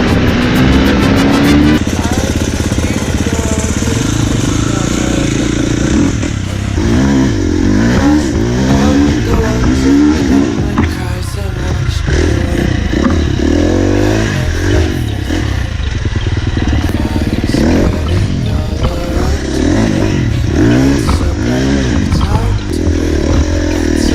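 A 2019 Beta RR 300 dirt bike engine revs loud and close, rising and falling through repeated throttle blips with clattering noise, and people talk over it.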